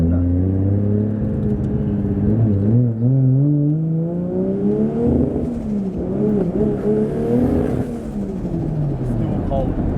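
A 2JZ turbo-swapped Nissan S15 Silvia with a 4-inch straight exhaust revs loudly and aggressively while still cold, its engine note climbing and falling in sweeping waves with voices talking over it.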